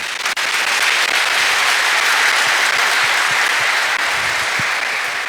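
A church congregation at Mass claps continuously and loudly, a dense unbroken wash of palms lasting the whole stretch with no voices over it.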